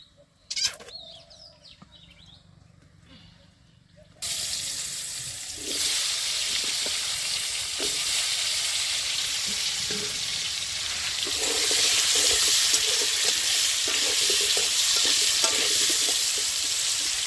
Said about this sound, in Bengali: তেল দিয়ে দিচ্ছি, আলু ভাজবো।